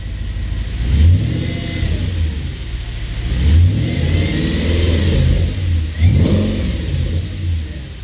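A cold Audi B7 RS4 engine idles with a rough hum, revving between 1,000 and 2,000 RPM and dropping back down several times in repeated surges, heard close with no talking.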